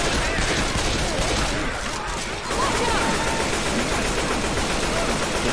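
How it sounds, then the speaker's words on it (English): Sustained rapid gunfire from Left 4 Dead 2, loud and dense throughout with a short dip near the middle, several weapons firing at once under faint voices. "Watch where you're shooting."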